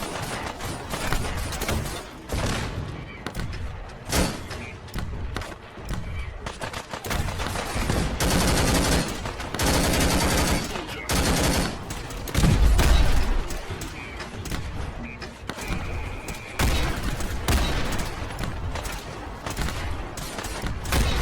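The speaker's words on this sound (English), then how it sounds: "Fire at will. Blast them with everything we've got." Gunfire and explosions in the Fallout 4 video game: dense, sustained bursts of automatic weapon fire and heavy booms roll on continuously at high volume, with brief voices mixed into the battle.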